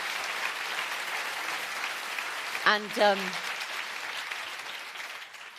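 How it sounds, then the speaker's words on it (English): Steady audience applause fills a debate hall for a panel of UN Secretary-General candidates, with a voice briefly cutting in over the clapping. "Give them a round of applause."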